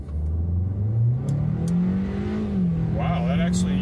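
A 2024 Kia Seltos SX in sport mode holds near 2000 RPM on the brake, then launches, its engine note climbing steadily in pitch and staying loud and close, with a voice speaking briefly near the end.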